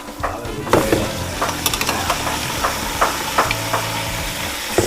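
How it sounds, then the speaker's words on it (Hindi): Boiled camel meat tumbles into a hot pot for nalli pulao, sizzling steadily with repeated stirring clatters and scrapes close by, no talk over it. "मैं उबाल करके रखा था गोश्त, अभी इसमें शामिल कर रहे हैं।"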